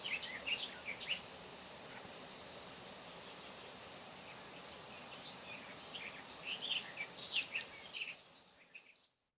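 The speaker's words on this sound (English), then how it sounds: "we'll just have 2 more seconds of birdsong and river" A soft, continuous wash of river water runs throughout, with scattered high bird chirps and song phrases at the start and again near the end before it fades out.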